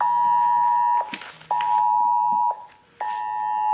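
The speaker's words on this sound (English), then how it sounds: "my phone is telling me there's a tornado warning in this area" A phone sounds a tornado warning alert with a repeating electronic two-tone beep pattern, three loud bursts about a second long each, separated by short gaps, heard close in a quiet room.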